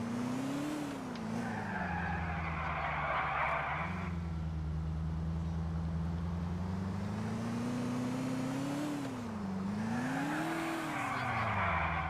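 A Moskvich 412 car in Grand Theft Auto IV drives with a steady engine drone that rises and falls as it revs, with tire squeal around the shifts, loud and close throughout.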